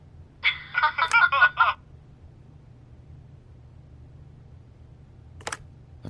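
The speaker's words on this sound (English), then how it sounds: "leave a message at the beep and we'll get back to you as soon as" Answering machine beep from the video game The Wolf Among Us: a short run of stacked electronic tones over a low steady hum, followed by quiet background and a brief faint click near the end.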